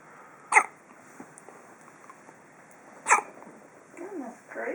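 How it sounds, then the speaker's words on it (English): Two sharp, isolated hiccups from a person, a few seconds apart and close to the microphone, in an otherwise quiet room, with faint talk rising near the end. "Real good hiccups, huh? Oh, that's a big one."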